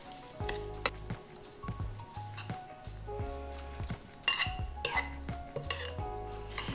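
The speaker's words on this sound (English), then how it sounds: "Now we're just gonna mix this all together to make our chimichurri sauce" Chimichurri sauce with chili flakes mixed in a bowl, giving repeated clinks and scrapes of a utensil against the bowl in an uneven rhythm, close and fairly quiet, with no talking.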